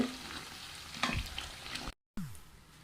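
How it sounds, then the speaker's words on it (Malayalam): Coconut oil bubbles and sizzles steadily in a pan as it browns while a utensil scrapes and stirs, with a brief dropout near the end. "ഇപ്പോൾ ഇത് നന്നായിട്ട് തിളച്ച് ഇതിൻ്റെ കളറൊക്കെ മാറി തുടങ്ങി"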